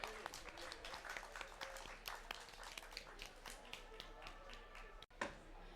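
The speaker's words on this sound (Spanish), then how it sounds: "Adelante, un aplauso." An audience at a live recorded event claps, with scattered, fairly quiet applause and crisp individual hand claps that continue for several seconds before a brief pause and a final burst.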